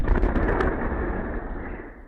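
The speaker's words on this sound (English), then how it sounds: "An explosion at a Russian airbase." Explosion at a Russian airbase recorded by a security camera: a loud, rumbling blast with a sharp onset that rolls on as a dense low roar and slowly fades over about two seconds, with no voices.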